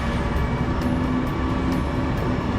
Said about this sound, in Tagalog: Yan, hindi natin tren yan.